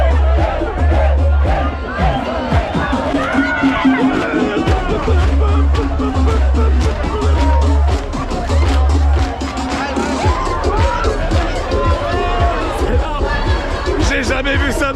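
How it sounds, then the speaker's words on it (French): A loud, dense street crowd at Rio's carnival, with continuous babble, shouting and cheering close around, a low rhythmic thump underneath, and people talking throughout. "On suit la foule."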